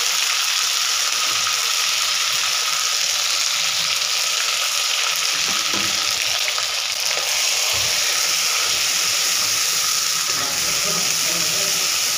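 Ground masala tipped into hot oil in a home kitchen for a Maharashtrian patwadi rassa, giving a steady, bright sizzle that carries through without a break.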